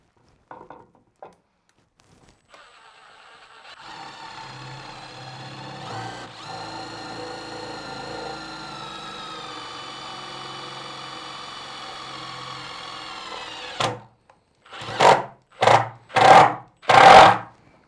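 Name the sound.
power driver fixing screw through MDF into steel plate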